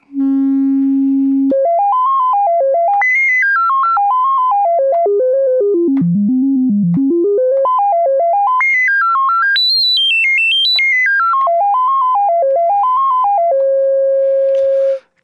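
A pure, whistling synthesizer tone through a GSE XaVCF Eurorack filter in one-pole mode sweeps up and down in stepped patterns, rising to high squeals and falling to low notes, continuous and loud throughout.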